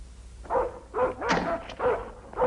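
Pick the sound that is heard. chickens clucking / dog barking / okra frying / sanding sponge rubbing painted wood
dog barking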